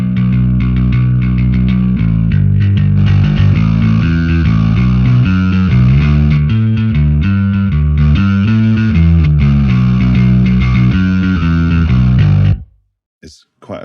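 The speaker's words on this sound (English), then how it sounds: "is quite a big noisy bass tone, really." Heavily distorted bass guitar with a gritty, noisy midrange grind plays a steady riff of repeated notes for about twelve seconds, loud and upfront, then cuts off abruptly.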